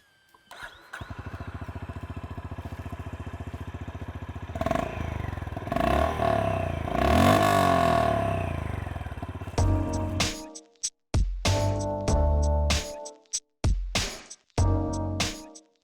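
A Honda H'ness CB350 motorcycle starts up and idles with a steady thumping exhaust, then is revved in sharp repeated blips with brief pauses between them, loud and close.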